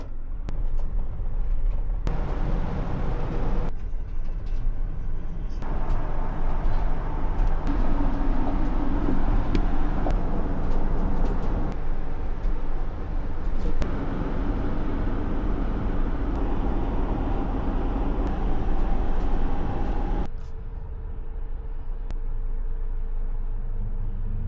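A car cruising on a highway back to New York from the Poconos, a steady loud road and engine roar with wind rush that persists, easing to a quieter hum near the end.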